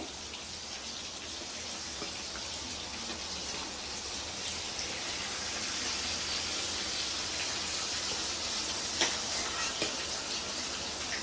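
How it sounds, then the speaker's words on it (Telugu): Dried fish frying in a pan for a dry fish curry, a steady, dense crackling sizzle throughout with a few sharper pops, close and fairly quiet with no voices. "ఎండు చేపలు ఏవైనా సరే అట్లానే వేపాలి"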